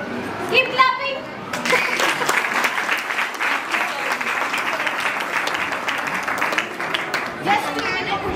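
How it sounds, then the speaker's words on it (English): An audience at a pre-primary school Janmashtami celebration claps steadily for several seconds, a loud dense patter with children's voices and a speaking voice at the start and end. "Keep clapping."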